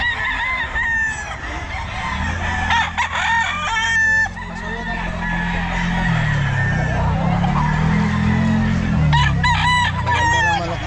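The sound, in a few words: gamefowl roosters crowing at Bocaue pet market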